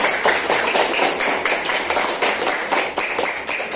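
Children in a classroom clap together after a lesson on the water cycle, a loud, busy patter of many small hands with some loosely synchronized beats, sustained for several seconds without speech.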